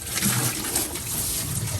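Water sprays steadily from a pressure washer while a ride-on machine is cleaned of mud, a close, continuous hiss and splatter with no pauses.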